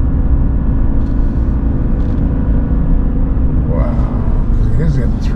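Chevy Silverado RST 1500 with the 3.0L Duramax diesel at 3,000 RPM while towing a 7,500 lb trailer downhill, a steady droning cabin rumble with constant engine hum and a voice speaking briefly over it.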